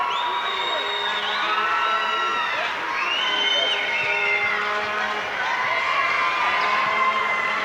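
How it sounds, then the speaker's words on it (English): A Spartan high school basketball crowd at a provincial final cheers and shouts in a loud, sustained wall of voices, with whoops and shrill calls rising and falling throughout. "We look at the Spartan crowd."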